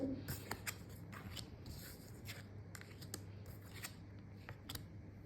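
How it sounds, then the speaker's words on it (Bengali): Cards being drawn from a shuffled deck, soft papery slides and quick snaps repeating at close range, with a low steady hum underneath. "এই ডেকের কার্ড থেকে একটু দেখে নেব আগে কয়েকটা কার্ড আমি নিয়ে নিই"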